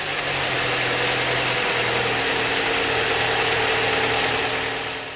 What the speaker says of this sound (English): we can then start the engine.